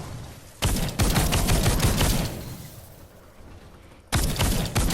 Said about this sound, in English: 43 shots to take out that smasher